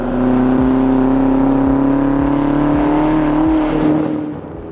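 Twin-turbo 4.4-litre V8 of a Range Rover Sport SV, revving loud and close with a steady droning engine tone that climbs slightly in pitch, punctuated by short low thumps, then easing off at the end.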